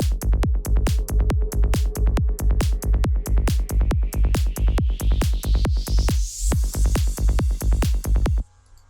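A psytrance FX transition built in Serum, heard in the full track: a bright synth sweep rising over a steady pounding kick pattern, loud and continuous, with the beat dropping out briefly near the end.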